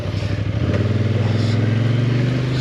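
A dirt bike engine idles steadily and close on an off-road OHV trail, its rapid even putter settling into a firm low drone with a slight clatter and no talk.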